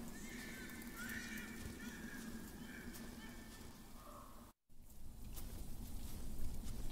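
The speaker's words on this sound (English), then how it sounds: "And now there's a horse here." A horse whinnies in the video game The Pillars of the Earth, with a high, wavering neigh over a busy ambient background, followed by a brief silent gap and then continuing game sounds.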